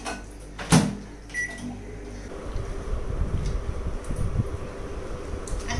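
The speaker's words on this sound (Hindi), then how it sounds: "2 रोटी जो अभी मैं थोड़ा सा माइक्रोवेव में गर्म कर लूँगी" A microwave oven warms two rotis at home. A sharp click comes first, then a steady low mechanical hum runs on with faint clatter.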